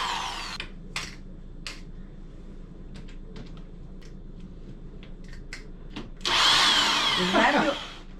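A power drill drives screws in short, separate bursts, then runs one longer, louder stretch near the end, with some handling clatter between bursts.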